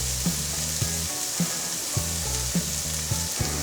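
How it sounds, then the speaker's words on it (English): Steady sizzling of garlic and ginger frying in a hot pan, a continuous hiss with faint regular clinks of stirring underneath, close and moderately loud. "Start frying the garlic and ginger."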